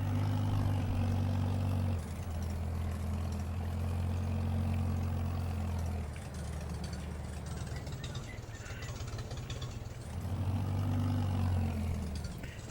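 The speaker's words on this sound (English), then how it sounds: "this Farmall 300, it's a nice tractor, but boy, it's a little touchy" A Farmall 300 tractor engine idles in Farming Simulator 22, a steady low throbbing rumble that rises and falls in level, with brief quieter stretches between louder running.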